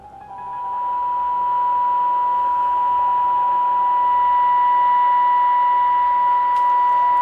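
A steady signal generator tone is heard through a CB radio receiver: one clean, continuous, fairly loud beep that rises out of faint static within the first second and then holds unbroken over a soft hiss.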